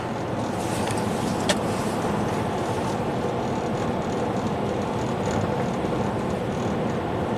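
A Subaru with a 5-speed automatic in sport mode accelerates, its engine droning as a steady broadband roar of road and cabin noise for the whole stretch, with no talking.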